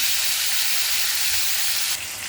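Potatoes seasoned with salt and turmeric fry in a pan with a loud, steady sizzle and hiss that stays even throughout, dropping slightly in the final moments.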